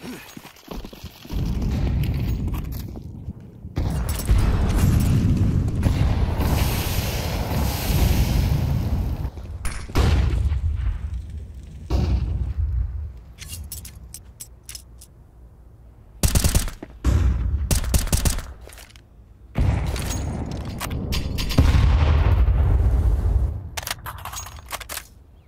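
Counter-Strike gunfire from a professional esports match: bursts of rapid automatic shots and single cracks, separated by short quiet gaps.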